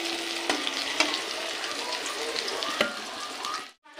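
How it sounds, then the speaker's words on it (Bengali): Potatoes frying in a pan, a steady close sizzle with occasional clinks and stirring scrapes throughout, cutting out briefly near the end. "তো দেখো এই যে আলুটা ভাজা হয়ে গেছে"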